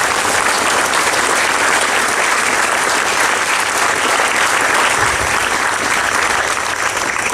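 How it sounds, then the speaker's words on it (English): Loud, dense applause from a large outdoor audience at a Sterling Municipal Band concert, continuous clapping filling the whole stretch without letting up. "Round of applause for Jon,"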